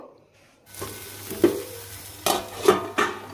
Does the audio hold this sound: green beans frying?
yes